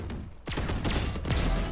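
Vandal rifle fire in Valorant, with several sharp, loud shots in quick bursts spread across a short span and ringing tails between them, no talking over them.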